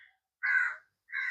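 A crow caws twice outdoors, two separate harsh calls with a short pause between them, fairly close and alone with no other sound.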